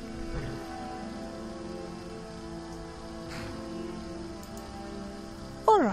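Rain falling in Skyrim, a soft steady patter on the ground that carries evenly throughout, with a short tonal sound near the end.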